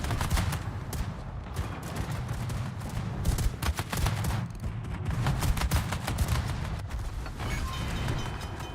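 Naval guns firing in World of Warships: a dense, continuous barrage of booming shots with heavy low rumble, overlapping volleys and crackling impacts, loud and steady for the whole stretch.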